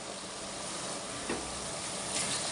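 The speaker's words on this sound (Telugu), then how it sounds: "ఇప్పుడు వేగుతున్నాయి కదండి" Ingredients sizzle in a clay pot while mullet fish curry is prepared, a soft, continuous hiss of frying that holds steady throughout, with one faint stir near the middle.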